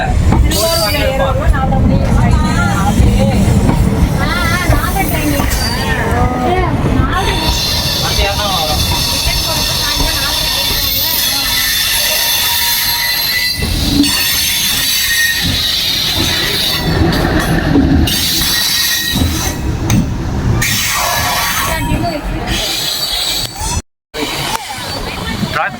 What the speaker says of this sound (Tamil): ட்ரெயின் போயிருச்சுங்க.